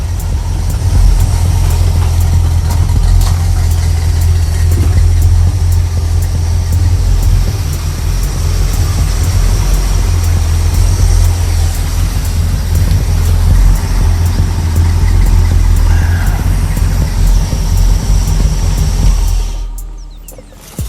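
A twin-turbo Cadillac engine idles loud and close with a steady low rumble for about twenty seconds, then shuts off and falls quiet at the end.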